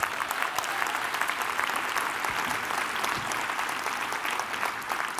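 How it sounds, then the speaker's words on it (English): Steady audience applause fills a room after a talk on savings policy, dense and even throughout with no voices over it. "That deserves a round of applause."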